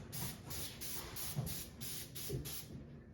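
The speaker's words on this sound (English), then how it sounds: "So you're gonna spray the pan so the brownies don't stick to it." Cooking spray is misted onto a baking pan for brownies in a home kitchen, a series of short, quiet hissing bursts repeating in a steady rhythm close by.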